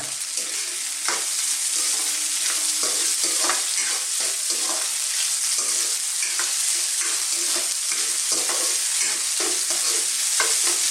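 Pre-fried tofu is tossed and stirred in a hot pan for spring roll filling, a continuous close sizzle broken by repeated scraping stirs at an irregular rhythm.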